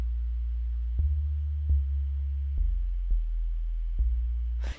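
Synthesizer sine wave bass loop pitched an octave lower: a deep, smooth, steady tone with soft clicks at each note change, looping over several bars with no other sound.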